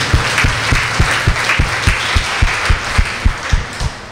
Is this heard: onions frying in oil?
no